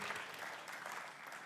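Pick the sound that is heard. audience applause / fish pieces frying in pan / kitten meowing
audience applause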